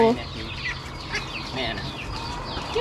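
Chickens cluck and squawk nearby, with a few short overlapping calls and a voice speaking faintly underneath.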